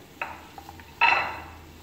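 A spoon stirs chopped tomato, green chilli, ginger, garlic and curry leaves in a pan for egg bhurji, giving a light scrape, then a few soft clinks and a louder sizzling stir toward the end.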